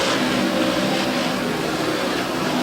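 A pack of race cars accelerates at the green flag at Airborne Speedway, a dense, loud, continuous engine roar filling the air without letup, no distinct voices over it.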